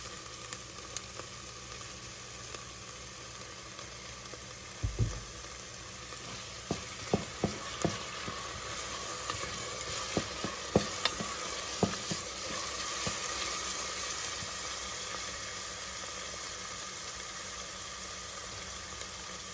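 Onions softened in water sizzle steadily as a small amount of oil, about two tablespoons, fries in the pot for Ethiopian fosoliya soup. A continuous soft hiss runs throughout, broken by scattered sharp pops and clicks from spatters.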